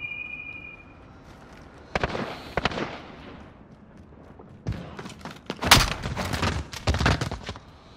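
Grenade blasts and bursts of gunfire in a Call of Duty-style shooter game: a sharp crack near two seconds, then a heavier cluster of explosive booms and rattling shots from about five seconds on, loud and close.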